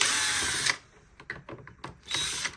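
A small electric screwdriver whirs as screws come out of a Dreame robot vacuum's casing, two short close bursts with faint clicks and handling noise between them.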